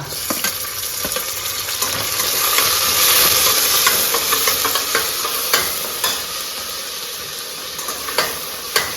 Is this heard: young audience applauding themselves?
no